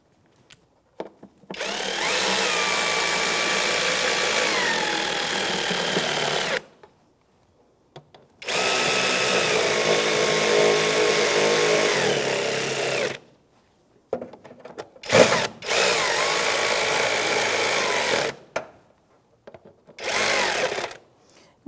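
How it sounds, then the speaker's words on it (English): A power tool with an 8mm socket tightens bolts on a 2012-2019 Fiat 500 1.4L, running in several long steady whirring bursts of a few seconds each, separated by short pauses. "I'll get my 8mm socket and we'll snug those all up."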